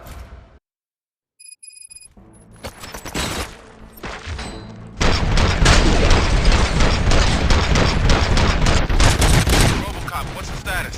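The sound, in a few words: gunfire in RoboCop: Rogue City video game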